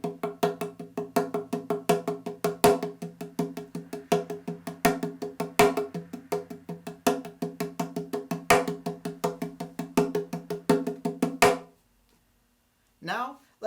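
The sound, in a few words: drum sixteenth notes, first strike accented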